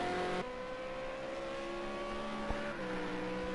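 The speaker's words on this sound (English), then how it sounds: "Les looks like he's first out on track. Does everyone in the Ford Falcon V8 Supercar." A Ford Falcon V8 Supercar in a racing game heads out onto the Mount Panorama circuit at Bathurst, its engine a steady droning whine with a gear shift partway through and no talk.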